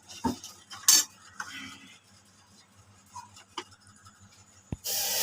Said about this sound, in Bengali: সুজিটাকে আমি তেলে ভালো করে একটু ভেজে নিলাম, দুটো তেজপাতা দিয়েছি